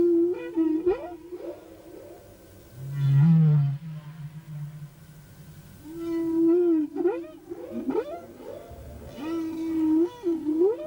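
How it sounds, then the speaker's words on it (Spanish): Hawaiian humpback whale song: long moaning calls, rising and falling sweeps and low groans, loud and close, repeating in phrases with brief gaps. "Todas las yubartas hawaianas cantan la misma canción básica"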